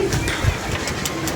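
Pigeons coo softly in short low bursts, kept in a loft among several birds, over a steady engine-like hum in the background.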